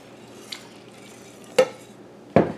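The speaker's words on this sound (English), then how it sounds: "while I'm stirring this, I'm going to gently stir in my 1/2" A spoon stirring half and half into a roux in a pot for clam chowder, with a soft scraping bed broken by a few sharp clinks of utensil against metal, close and fairly quiet, no voices.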